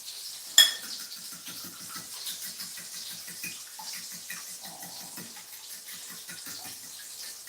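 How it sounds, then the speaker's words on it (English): Food being stirred in a cooking pot, with a steady run of soft rhythmic scrapes and knocks after a sharp clink near the start, heard close and fairly quiet. "And let's get this all stirred up."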